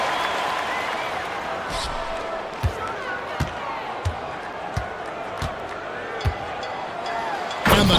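Crowd noise from an esports basketball video game match in a European e-basketball conference, a steady arena roar with scattered sharp ball thuds, swelling into a louder cheer at the very end.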